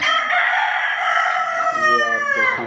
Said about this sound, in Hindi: इसमें काफ़ी सारे मुर्गे भी हैं।